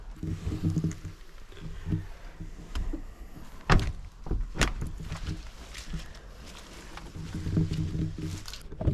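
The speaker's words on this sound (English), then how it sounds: "I'm actually straightening the window frame out so it shuts right" Creaking, groaning metal strain and sharp knocks as a car door window frame is bent straight by hand on an old BMW or Ford barn-find classic, irregular and close.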